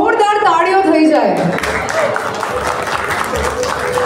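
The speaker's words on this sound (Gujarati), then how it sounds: "એક વખત તમારી માટે જોરદાર તાળીઓ થઈ જાય." Audience applause for the Shah family guests at a 63rd anniversary celebration, rising after a brief spoken line and continuing as a loud, steady crowd clapping to the end.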